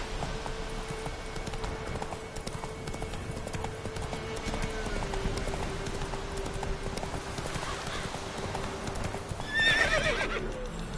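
Roach, a horse in The Witcher video game, gallops with a steady, rapid clip-clop of hooves that carries throughout, and a whinny rises near the end.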